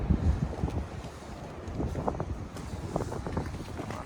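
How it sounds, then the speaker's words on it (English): Cold, gusty wind outdoors beside a parked R34 Skyline sedan, a constant low rumble of microphone buffeting that swells and eases, loudest at the start, with no talking over it. "It's windy."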